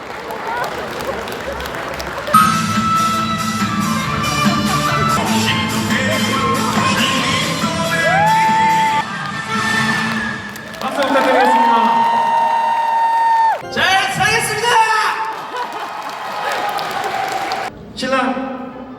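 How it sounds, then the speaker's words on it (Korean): Wedding guests clap and cheer in the hall as a dance team makes its entrance. The loud, sustained applause and whoops run under lively music, with voices mixed in throughout. "박수 부탁드리겠습니다."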